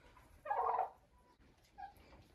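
Turkeys eating apples from a bucket let out one short, fairly faint gobble, followed a moment later by a weaker second call in a quiet yard.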